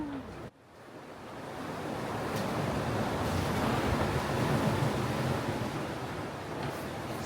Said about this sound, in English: Well, the sea state definitely picked up.